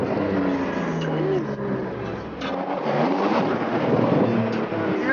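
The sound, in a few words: car engine revving with exhaust crackle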